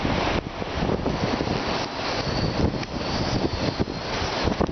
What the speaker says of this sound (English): The wind's blowing so hard I can't even cook my food on my stove.